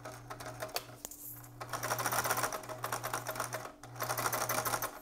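A sewing machine runs in bursts while stitching elastic onto a homemade respirator mask at a 2.5 stitch length, its steady whirring motor broken by short pauses and close to the listener.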